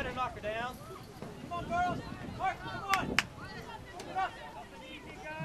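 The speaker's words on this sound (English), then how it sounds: "The wind is so bad now you can hear it howling up here in the press box" Wind buffeting an open-air press box high above a women's college soccer semifinal, a steady rushing roar with gusty swells and a few sharp knocks, murmured crowd and voices faint beneath it.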